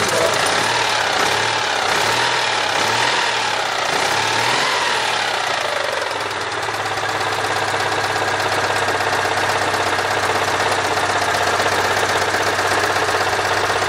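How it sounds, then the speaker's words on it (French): A small Citroën 2CV engine revs up and down several times in quick succession, then settles into a steady, loud idle hum. "tu nous fais quelques accélérations, là, 2 ou 3."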